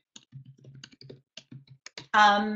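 Typing on a computer keyboard comes through as a quick run of light, irregular clicks at close range, followed by a louder, sustained burst of noise at the end.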